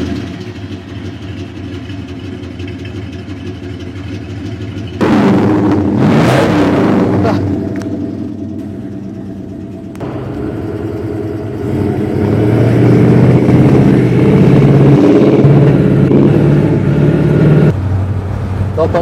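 The 335 hp V8 of a 1972 Ford Ranchero 500 runs throughout, idling with a deep, steady rumble that swells in loudness midway and toward the end, with people talking over it.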